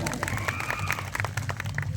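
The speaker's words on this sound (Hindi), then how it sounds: "एक बार जोरदार तालियां खुद के लिए बजा दी।" Brief scattered clapping from a seated audience at a Rajasthan tribal gathering, uneven claps over a low rumble with a voice running through it.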